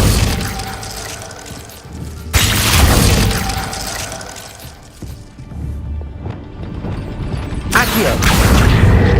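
Glacius, a freezing spell cast in Hogwarts Legacy, sounds as a series of loud crashing, crackling bursts with brittle shattering textures and a short lull before a final blast, close and dense.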